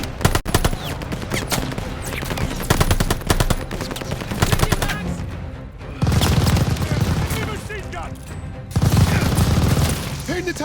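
Sustained machine gun fire and explosions in the video game Call of Duty Vanguard, set during Operation Tonga in June 1944, with dense rapid bursts throughout, loud and close, and brief shouted voices mixed in.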